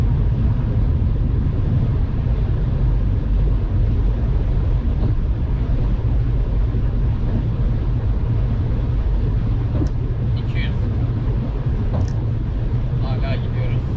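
A Ford S-Max fitted with a hybrid turbo and a large intercooler cruises at high motorway speed, giving a steady loud low engine and road roar inside the cabin with wind noise throughout.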